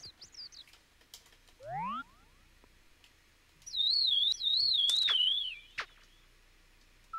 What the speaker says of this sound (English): So, those sounds you're hearing are Yoshi, but Yoshi apparently knows how to whistle,